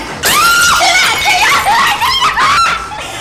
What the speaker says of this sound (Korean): 술병 깨고 소리 지르고!